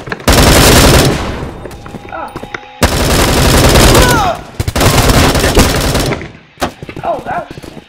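Loud automatic gunfire in the shooter game Bullet Force rattles in long sustained bursts with short gaps between them, close and harsh, followed by a shorter final burst and small in-game electronic chirps.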